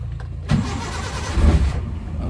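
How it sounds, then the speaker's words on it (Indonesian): A car engine cranks briefly, then catches and settles into a steady idle, close and fairly loud, with a low throaty rumble swelling once more near the end. "ini mesin udah nyala ya"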